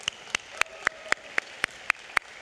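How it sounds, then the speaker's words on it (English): A single person claps slowly and steadily, about ten sharp, evenly spaced claps over a quiet room at a Los Angeles County Board of Supervisors meeting. "Let's give them a round of applause"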